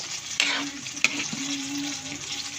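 Pork for kare-kare fries in a pan with a soft, continuous sizzle. A couple of quick stirring scrapes and light knocks of a utensil cut through it.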